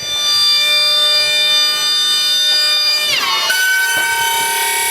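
Hydraulic pump on a homemade dump trailer squealing after raising the bed, a loud sustained whine that bends and shifts pitch partway through, close and alone.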